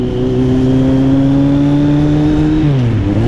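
A Kawasaki Z800 motorcycle engine revs loudly and steadily while riding on a dusty road, holding a strong droning pitch that rises slowly before dropping off near the end, close and alone.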